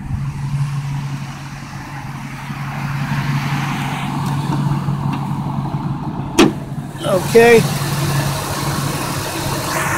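A 1998 Ford Expedition with a 5.4 liter engine idles under an open hood, giving a steady low hum throughout, interrupted near the end by a sharp clack and brief rattling handling noises, with a short spoken word.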